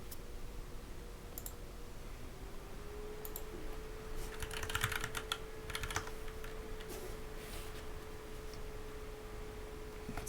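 Rapid typing on a keyboard fitted with BOX Crystal linear switches, a steady stream of soft clicks and clacks at close range, alone apart from a faint low hum.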